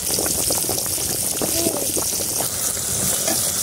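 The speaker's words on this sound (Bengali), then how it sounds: "এই তো পটল ভাজা হয়ে গেছে, এখন পটলগুলো নামিয়ে নেব।" Pointed gourd (potol) frying in a pan, a dense, continuous sizzle and crackle of oil close by, steady throughout with no talk over it.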